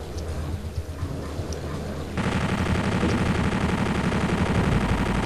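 Rapid chain gun fire in Doom 64 starts about two seconds in and rattles on loud and continuous, after a quieter stretch of game noise.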